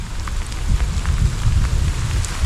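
Heavy rain falling steadily on a mountain hiking trail on Mount Prau via Dieng, a dense continuous wash of drops with low rumbling gusts, close and enveloping, no voices.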